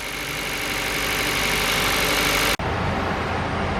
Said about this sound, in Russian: Мотор холодный, присутствует легкая перекладка.